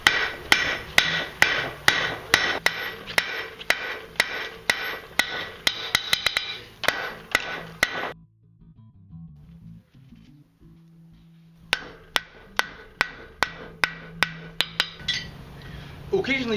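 A blacksmith's hammer forges a hot railroad spike into a letter opener, ringing in a quick, steady run of sharp metallic strikes, then a pause of a few seconds with a low hum, before another even run of blows.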